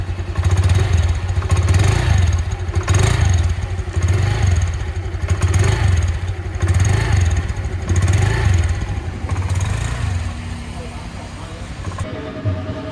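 A Honda Beat Deluxe scooter engine runs unevenly with a faulty, sputtering idle, pulsing roughly every second and loud and close, with mechanical clatter and a shift in tone near the end.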